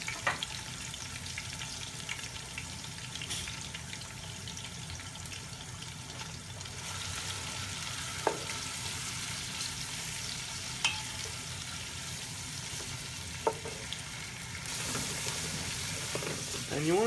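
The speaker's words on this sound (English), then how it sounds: "Once your oil is hot, we want to add all our onions to our pot." Chopped onions sizzle steadily in hot oil in a cooking pot, a continuous soft frying hiss with occasional faint clinks and stirring scrapes, fairly quiet throughout.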